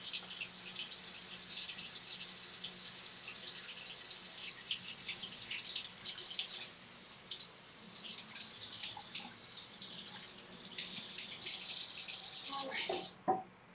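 Tap water runs steadily into a kitchen sink while a cutting board is rinsed, a continuous close splashing that cuts off with a clunk at the end.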